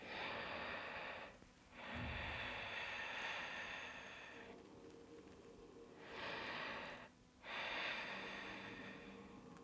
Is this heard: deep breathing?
yes